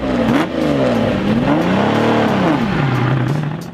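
A Lamborghini Miura sports car engine revving loudly and close, its pitch climbing, falling and surging again in continuous throttle blips with no voices.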